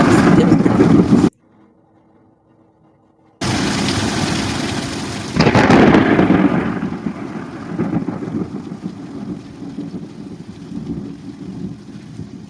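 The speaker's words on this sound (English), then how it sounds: "it was coming down pretty heavy, like a really heavy downpour." Heavy thunderstorm downpour recorded on an iPad: steady loud rain hiss, a brief dropout, then a sharp crack of thunder that rumbles and slowly fades as it echoes off surrounding hills.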